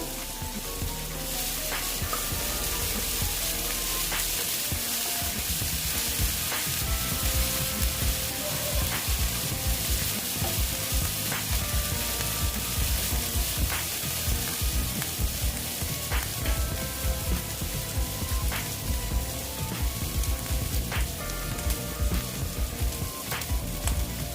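Grated ginger and garlic fry in a pan with onion for a boal fish curry, a strong continuous close sizzle with repeated spatula clicks and stirring throughout, no talking.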